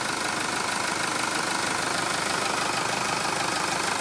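A Jeep Liberty KJ diesel engine runs at a steady, close, knocking idle, a continuous rough clatter with no voices.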